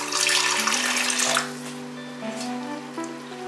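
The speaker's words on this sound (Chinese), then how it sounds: "水分不够多，可以再加些水。" Water pours steadily into a cooking pan during stir-frying with a thin starch slurry, a bright running splash at first that settles into a quieter simmering hiss with a faint tonal hum beneath.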